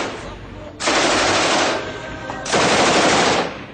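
Light machine gun firing two long sustained bursts of rapid automatic fire, loud and close, with a brief pause between them.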